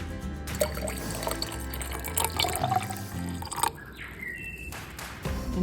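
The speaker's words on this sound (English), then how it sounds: "then we're pouring it over top of the sauerkraut" Salt brine is poured from a container over sauerkraut in a glass jar, making a close, gurgling trickle with small splashes and drips that fade after a final few drops, and nobody speaks.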